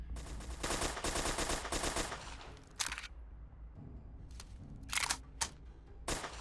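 Uzi submachine gun fire in the video game Fallout 4, with bursts of rapid automatic shots followed by a few separate short volleys, moderately loud and with no talking.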